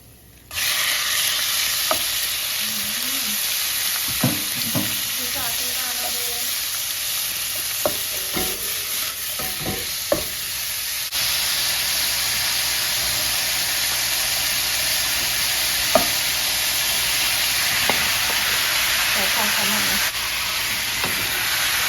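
A sweet and sour dish stir-fried in a pan, a loud continuous sizzle with scattered clacks of a utensil stirring and scraping, close and unbroken throughout.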